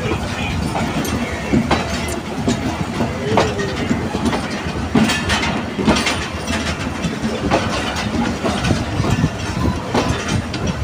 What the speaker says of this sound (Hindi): बीस मिनट के स्टॉप के बाद ट्रेन मुल्तान स्टेशन से डिपार्ट हो रही है